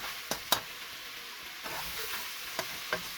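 Chicken pieces browning in a pan with lemongrass for adobo give a soft, low sizzle broken by several sharp clicks and scrapes of stirring.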